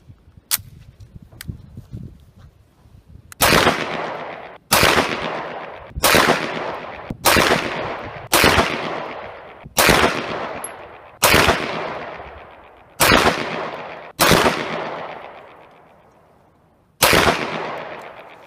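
An M17 pistol fires Atlanta Arms precision match grade full metal jacket rounds on a range: ten sharp, loud shots at an irregular, deliberate pace, each with a short ringing decay, after a few faint knocks at the start.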